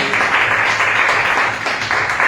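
A church congregation applauds in praise of God, a thick, continuous wash of many hands clapping at close range, steady and loud for the whole stretch.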